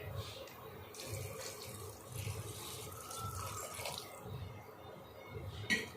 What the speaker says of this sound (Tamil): தண்ணி தேவையான அளவு விட்டாச்சு